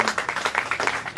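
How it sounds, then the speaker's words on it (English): An audience claps at the commissioning of a new SLBC television studio at Broadcasting House, a brief burst of close, quick, irregular hand claps. "let's give her a round of applause for the new election"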